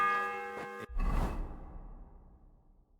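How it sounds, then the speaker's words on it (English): A bell tolls the seventh hour in Kingdom Come Deliverance 2: a bright ringing tone that is suddenly cut off, then a soft whooshing swell that fades into near silence. "The 7th bell."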